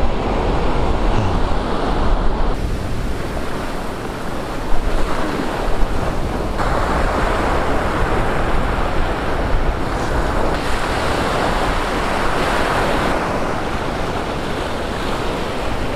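Ocean waves rolling and breaking on the shore of the Isle of Skye, Scotland, mixed with steady gusting wind buffeting the microphone, a continuous loud roar with no talk.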